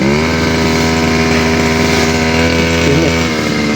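A small two-stroke grass cutter engine runs steadily and loudly up close, a buzzing drone with strong harmonics that dips slightly near the end.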